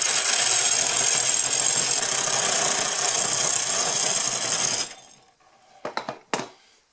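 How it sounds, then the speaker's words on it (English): A wheel dresser grinds steadily against a spinning grinding wheel, a loud, harsh rasp lasting about five seconds, then stopping and leaving a few sharp metallic clinks and knocks. "This is a dresser for a wheel"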